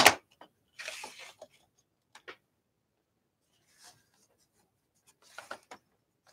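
Paper being cut apart for art journal pages and postcards: scattered short snips and rustling bursts separated by silent gaps, close and fairly quiet.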